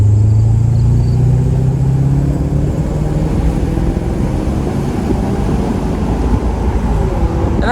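A 2019 Maserati GranTurismo Cabriolet convertible cruising at around 45 mph, its engine giving a steady, loud, low drone with wind and road rumble throughout, pitch easing slightly after an early higher note.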